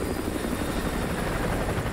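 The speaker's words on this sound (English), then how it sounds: "Chopper inbound. Keep low." Helicopter from Call of Duty Modern Warfare 2, a small chopper passing close with a loud, continuous rotor thump and engine roar filling the whole stretch, no voices over it.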